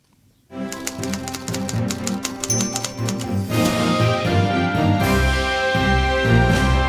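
Rapid typewriter key clacks and a carriage bell ring out over an upbeat musical jingle, loud and rhythmic, with the music swelling midway.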